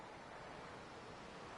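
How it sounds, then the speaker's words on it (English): A giant waterfall in the dinosaur park game Park o' Cretaceous gives a steady, soft broadband rush of falling water, continuous and faint with no voices. "The giant waterfall,"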